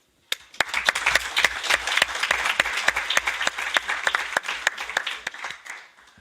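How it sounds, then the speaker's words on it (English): Applause from an audience at a European youth event in Brussels, dense clapping with sharp individual claps standing out, starting abruptly and holding steady for about six seconds before tapering off. "let's give them a round of applause"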